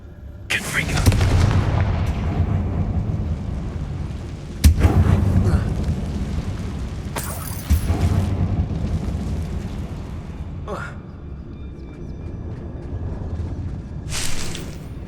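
Confringo fire spell explosions in the Hogwarts Legacy video game, set in an abandoned mine, several heavy booming blasts over a rumbling battle din, with a voice speaking at times.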